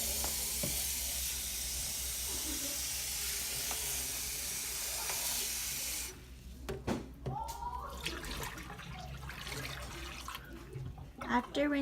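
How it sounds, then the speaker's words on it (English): Water splashes and runs steadily as a bedpan is rinsed and the rinse is poured into a toilet, a continuous hissing flow for the first half, then quieter sloshing and clinks with some voices. "Rinses bedpan and pours rinse into toilet."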